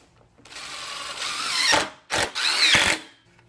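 A power drill drives screws into a metal pipe, with two bursts of whirring spinning and ratcheting close by, separated by a short pause.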